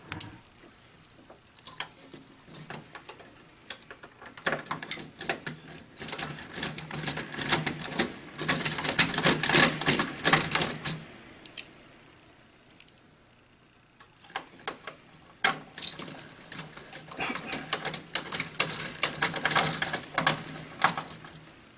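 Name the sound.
mounting screws being started into a contactor on Simplex equipment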